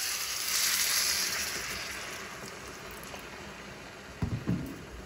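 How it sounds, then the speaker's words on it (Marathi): Hot water poured into a pan of frying potatoes coated in masala for a Maharashtrian bhaji, giving a loud hiss and sizzle that slowly fades, followed by a few brief clatters near the end. "आता यामध्ये मी टाकत आहे गरम पाणी"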